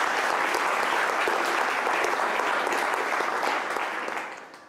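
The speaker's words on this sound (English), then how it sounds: "Let's give them a round of applause, please." A lecture audience bursts into sustained, dense applause that fills nearly five seconds before tapering off at the end, loud and close with no talking over it.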